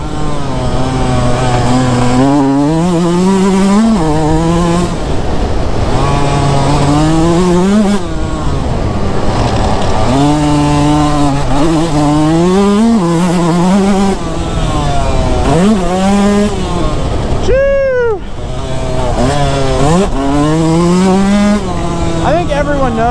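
A Yamaha YZ125 two-stroke dirt bike engine screams loudly and continuously, revving up and down in rising and falling pitch sweeps through gear shifts, close by.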